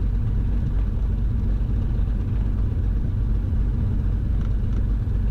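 A twin-engine Cessna taxis at idle power with a tailwind pushing it along, its engines giving a steady, loud, unbroken low rumble from start to finish.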